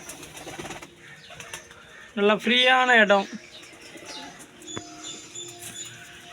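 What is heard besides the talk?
pigeons cooing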